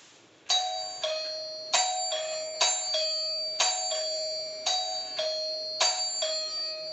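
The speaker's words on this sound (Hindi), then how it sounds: "दोस्तों, यह है एंकर की डोरबेल। इसका साउंड क्वालिटी देखते हैं।" An Anchor ding-dong doorbell rings repeatedly, about five loud two-note chimes in a regular rhythm, close and clear with nothing else heard.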